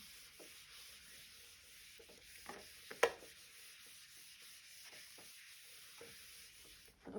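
Writing being rubbed off a classroom board, a faint steady scratchy rubbing of low loudness with a single sharp knock partway through and no talking.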